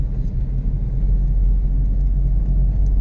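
A misfiring vehicle engine rumbles low and loud from close by inside the vehicle, a steady heavy drone with a faint uneven pulsing throughout.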